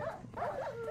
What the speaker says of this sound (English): I found the rest of the dogs.